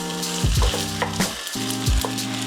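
Garlic fried rice with eggs and mixed proteins frying in a pan, a steady close sizzle with brief scraping stir sounds and no voices.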